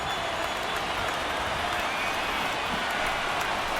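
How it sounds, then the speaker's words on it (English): Small but vocal baseball crowd cheering and clapping at a game, a steady wash of applause and shouts at moderate distance, continuous throughout. "Now this small but vocal crowd come to their feet."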